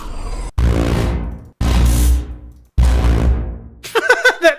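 Titanfall charge rifle in a modded game firing three heavy, booming blasts, each rumbling and fading before the next, loud and close, followed by a short burst of chirpy electronic noise.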